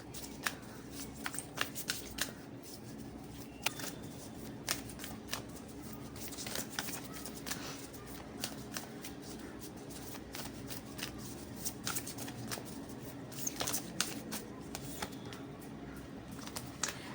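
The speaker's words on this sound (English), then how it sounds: "Let's pull one card from this beautiful deck" A tarot card deck is shuffled close up, its cards riffling and slapping in steady bursts of crisp papery flutter over a faint room hum, with no talking.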